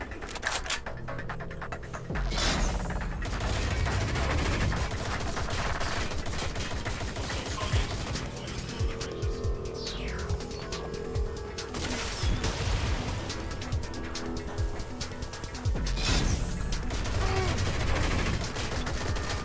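Gunfire in Watch Dogs Legion: rapid bursts and volleys of shots crackle loudly and nearly nonstop for the whole stretch, with some sharper, louder flurries near the beginning and end.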